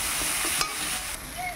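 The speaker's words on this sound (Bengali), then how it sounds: "মশলাটা কোটানি হয়ে গেলে দিয়ে দিয়েছি কড়াইতে। এবার মশলাটা কষিয়ে এই সবজিগুলি দিয়ে দেবো।" Spice paste sizzles steadily in a hot wok (kadai) while a utensil scrapes and stirs through it, a close, continuous frying hiss with soft stirring knocks.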